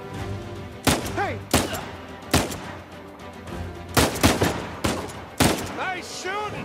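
Gunfire in the video game Uncharted 4: A Thief's End, with sharp single and double shots cracking at irregular intervals, some closely paired, and brief whizzing ricochet-like tones trailing a few of them.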